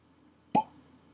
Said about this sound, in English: Let's give this one a little pop, shall we?